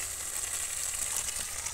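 Chicken curry sizzles in oil in a pan, giving a steady, even crackle and hiss that stays close and constant throughout with no talking.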